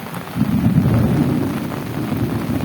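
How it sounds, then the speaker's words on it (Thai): A low, continuous rumble of thunder rolls on with steady rain hissing throughout, loud and enveloping with no voices. "ฟ้าก็คำราม"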